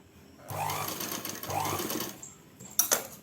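An electric sewing machine stitches a folded drawstring channel on a salwar pant in two short bursts of rapid whirring, with a voice talking quietly over it and a few small clicks at the end.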